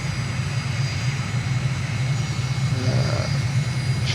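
Airplane engine drones steadily in a flight simulator game at takeoff in Uganda, a loud sustained low hum with a rough propeller-like buzz and no talk.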